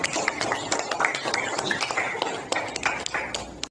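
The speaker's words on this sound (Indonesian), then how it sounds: "Kita berikan tepuk tangan untuk Titin" Classroom applause for a student during a lesson, a short burst of quick claps from a group of pupils mixed with their chatter and voices.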